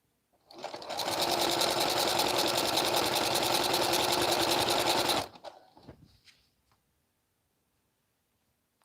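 A sewing machine runs steadily for about five seconds, stitching fabric seams with a fast, even mechanical chatter, then stops, followed by a few faint handling clicks and near silence.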